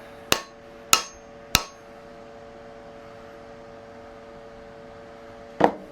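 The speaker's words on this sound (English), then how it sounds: "I'm going to pop on the rear a little bit with the front of my mallet" Four sharp, ringing knocks of a wooden mallet striking an axe head to seat it on a bent handle, three evenly spaced in quick succession, then a pause and a final blow.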